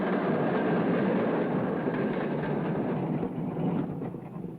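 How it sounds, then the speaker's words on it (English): A Melbourne electric tram running along its rails, a steady, loud rolling rumble with rail noise that holds for several seconds and eases slightly toward the end, with no voices. "The cheapest trips around are still tram rides."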